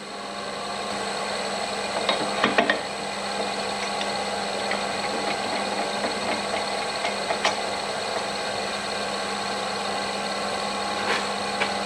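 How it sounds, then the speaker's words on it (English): A drill runs steadily through a wooden sphere ornament with a half-inch brad point bit, a continuous even whir with a few brief sharper catches, close and at moderate level, no talk. "brad point bit, and I'm going to drill all the way past the other side"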